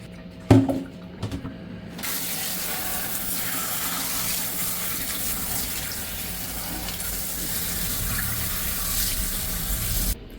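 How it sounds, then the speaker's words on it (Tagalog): Tap water runs steadily into a sink to rinse bamboo shoots that soaked a day in salted water, a constant close splashing stream after a few brief knocks at the start. "Papalitan po natin ng tubig yan."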